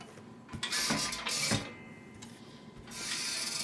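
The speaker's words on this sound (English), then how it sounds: "I'm going to smash those two colours together in what's called wet and wet printing." A screen printing press runs a wet-on-wet print of white and grey ink, with quiet mechanical clacks, rubs and squeegee-like scraping strokes spaced irregularly at close range, with no speech.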